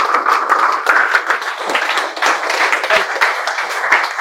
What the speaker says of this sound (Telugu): చప్పట్లతో స్వాగతం పలుకుతున్నాం.